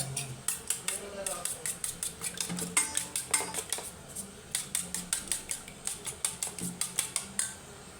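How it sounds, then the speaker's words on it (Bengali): Eggs being whisked briskly in a bowl with a pinch of salt, a rapid run of sharp metallic clinks against the bowl, close and steady, with a brief pause partway through. "আমি এটাতে সামান্য একটু নুন দিয়ে ফেটিয়ে"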